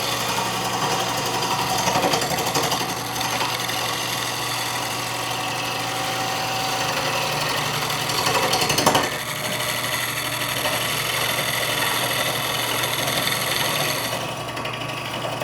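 Spindle gouge taking light finishing cuts on the outside of a wood bowl spinning on a lathe, a steady whirring motor hum under a continuous scraping hiss, with a brief louder cut near the middle and the tone thinning at the end.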